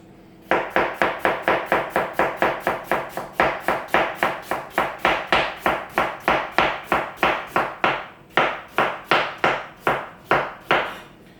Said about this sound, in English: So that's our 4 potatoes sliced there nice and evenly